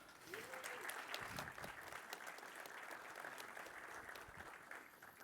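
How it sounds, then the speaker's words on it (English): Steady applause from a conference audience welcoming two speakers to the stage for a talk on migrating Azure apps to Kubernetes, a dense wash of clapping filling the whole stretch at fairly low level, with a brief voice near the start. "Big applause for Benedikt Kittinger and Michael Kellner."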